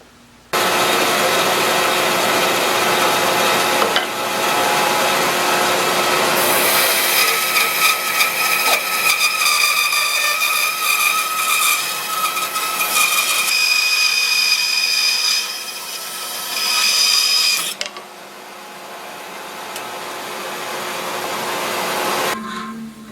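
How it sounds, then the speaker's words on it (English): A bandsaw fitted with a Kreg precision resaw jig cuts through wood while a dust collector roars, a loud steady whine with a harsher cutting tone over the middle stretch, then winding down near the end. "I'm going to turn the dust collector on and the saw"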